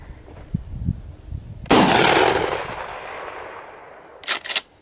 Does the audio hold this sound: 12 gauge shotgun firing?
yes